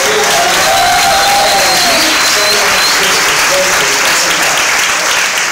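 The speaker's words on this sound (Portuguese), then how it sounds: "Vamos aplaudir a Deus pela vida dele" A church congregation claps loudly and continuously, a dense sustained wash of applause with faint voices and a held tone beneath it.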